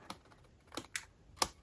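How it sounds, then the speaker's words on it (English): Scissors trimming cardstock for a handmade greeting card, four short sharp snips spaced unevenly, close and quiet. "Now we're just gonna trim this off."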